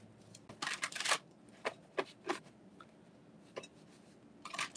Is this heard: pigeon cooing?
no